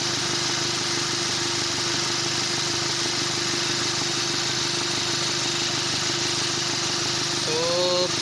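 A Ford Territory engine runs at a steady, loud hum with the air-conditioning compressor engaged, and a brief whining tone rises near the end.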